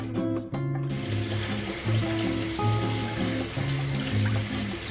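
Water runs from a tap and splashes into a pot of mung beans, a close, continuous gushing pour with ringing tones from the pot.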